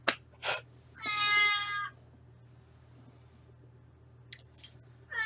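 A cat meows indoors, a short cry followed by a longer drawn-out meow, then a quiet gap and a couple of brief chirps, close and fairly faint over a low background hum.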